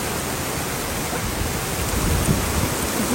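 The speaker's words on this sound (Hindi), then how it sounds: "बहुत बारिश आ गई ऊपर।" Heavy rain pouring down in Chamoli, Uttarakhand, a dense, steady roar of downpour with no letup, loud and close, with no voices over it.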